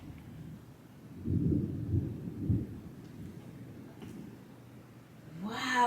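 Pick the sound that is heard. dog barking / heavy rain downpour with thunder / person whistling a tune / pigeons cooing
heavy rain downpour with thunder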